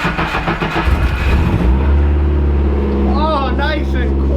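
A turbocharged Pontiac GTO engine cranks and catches at close range, then settles into a loud, steady idle rumble while a voice speaks over it.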